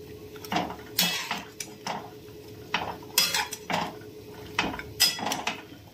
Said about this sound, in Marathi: आता ह्या थोड्याशा हलवून घेऊयात आपण.